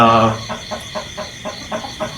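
A fighting rooster gives a loud opening call, then a rhythmic series of short, close clucks, about seven evenly spaced pulses in quick succession.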